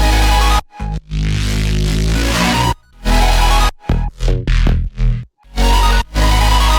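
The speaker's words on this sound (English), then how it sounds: "So super saw all together sounds like this." Bright super saw synth chords with a bass line play loud and up front, stopping and restarting in short choppy bursts with brief silent gaps between phrases.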